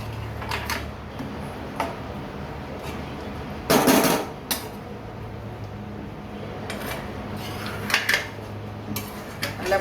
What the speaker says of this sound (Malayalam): പുളിവെള്ളം ഒഴിച്ചൊന്ന് ഇളക്കി കൊടുക്കാം